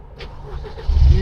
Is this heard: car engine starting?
yes